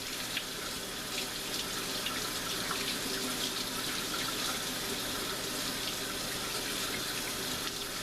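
Tap water runs steadily into a sink while cut Canadian bacon is rinsed under it, a constant hissing splash at moderate level with no talking.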